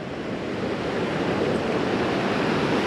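Ocean surf washes continuously at Melasti Beach in Bali, a steady broadband roar of waves with some wind, with no talk.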